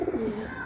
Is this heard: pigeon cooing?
yes